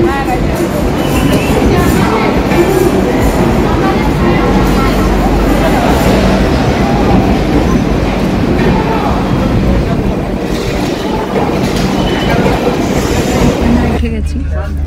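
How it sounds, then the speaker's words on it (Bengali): Shatabdi Express on the Howrah to NJP run gives a continuous rumble and clatter from inside the carriage. People talk over the steady rolling noise, which eases near the end. "এই যে আমাদের ট্রেন দিয়ে দিয়েছে হাওড়া টু এনজেপি"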